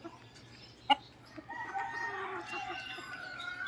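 Young roosters cluck on a farm, with one sharp, close call followed by a longer, fainter crowing cry that trails off under a low background hum.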